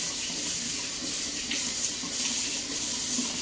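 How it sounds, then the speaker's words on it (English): Water runs steadily from a sink tap in a pharmacy handwashing area, a constant close hiss and splash without pauses or talk. "I'm going to use paper towel to turn the water on."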